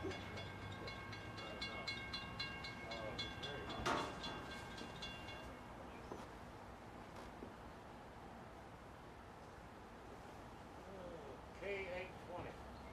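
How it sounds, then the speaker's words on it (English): K820, a freight unit train, rumbles past at Folkston with steady low wheel and engine noise, a brief horn-like tone near the start and faint birds, heard from a distance and fairly quiet. "our final train seen during our time at Folkston came through. K820, a unit train"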